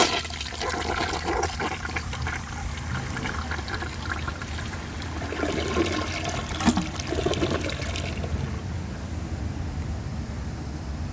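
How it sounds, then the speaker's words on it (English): A Mansfield Summit toilet flushing, a sustained rushing gurgle of water that swirls and drains for several seconds before easing toward a trickle, loud and close with no talking. "give it another flush"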